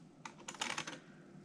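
Fingers tap the full QWERTY keyboard of a Toshiba MSX home computer, a quick cluster of several light plastic key clacks in a short burst, quiet and close.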